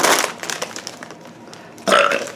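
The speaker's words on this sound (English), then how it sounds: "Real malt liquor drinking women don't belch on camera." A woman lets out a loud, raspy belch after drinking malt liquor, close to the mic, with a shorter burst of belching sound following near the end.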